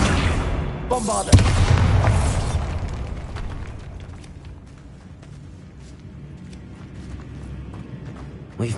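Bombarda spell blast in Hogwarts Legacy, a loud booming explosion with rattling debris in the first two seconds, then a low eerie tomb ambience with scattered faint clicks.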